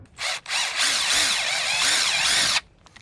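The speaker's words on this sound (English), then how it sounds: "screw 1 of the self-tapping screws on top of each 3-way fittings 1 inch from the end" Power drill driving a self-tapping screw into a 3-way PVC fitting on a raised garden bed frame, a close, loud whirring drill motor that rises and wavers in pitch for about two seconds, then stops.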